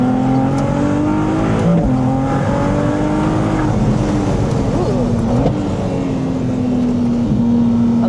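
A Ferrari 296 Speciale lapping the Anglesey circuit at speed roars loudly from inside the cabin, its engine pitch climbing and dropping through several quick gear changes.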